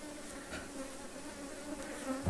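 Honeybees buzz densely and steadily at an open beehive during hive handling for propolis production, a close, continuous hum filling the whole stretch with no pauses.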